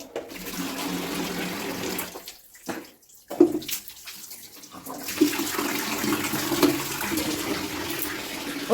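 Hot water runs from a tap for a bath, a steady rushing pour that briefly cuts out, then resumes and gurgles into a filling tub at close range.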